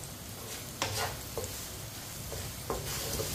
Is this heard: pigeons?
no